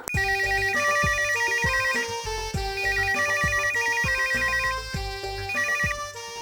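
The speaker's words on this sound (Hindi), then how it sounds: "बाजी का फोन आया है" A phone ringtone plays a bright repeating electronic melody in bursts over steady background music, loud and close.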